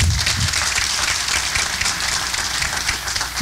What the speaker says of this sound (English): Another round of applause to Peter and his team.